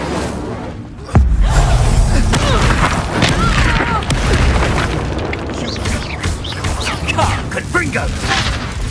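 A fire spell bursts out in Hogwarts Legacy with a loud boom at the start. A dense roar of flames and magical crackle keeps going for several seconds, with combat effects and voices mixed in.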